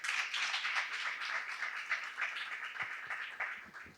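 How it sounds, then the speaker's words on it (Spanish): Audience applause for Aníbal Jarkovsky at a Borges-themed literary event, a steady wash of clapping filling about four seconds and thinning toward the end. "Le damos un fuerte aplauso a Aníbal Jarkovsky"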